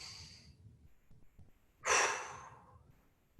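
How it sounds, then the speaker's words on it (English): Big deep breath taken during a breathing exercise in a fitness training session: a faint hiss, then a loud, long exhale of rushing air lasting about a second, close and alone, with no talk. "And 1 more, big breath."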